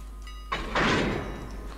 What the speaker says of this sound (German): So, die ist dann jetzt angeschlossen